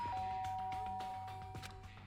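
A doorbell chimes in the video game Danganronpa: Trigger Happy Havoc, a clear electronic ding-dong tone ringing out and fading, heard alone without talk.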